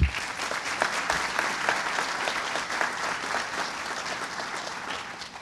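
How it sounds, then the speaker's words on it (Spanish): An audience at an award ceremony bursts into sustained applause, dense even clapping from a sizable crowd that holds steady for several seconds and fades slightly at the end. "lo recibimos con un fuerte aplauso"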